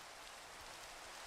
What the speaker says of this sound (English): Yeah, yeah, the rain is great.